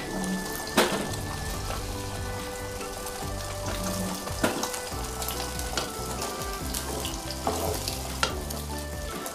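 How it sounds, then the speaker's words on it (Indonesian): Egg frying in hot oil in a pan, a steady sizzle running throughout with occasional louder crackles and spatters, mixed with background music. "Setelah minyak panas, selalu goreng telur."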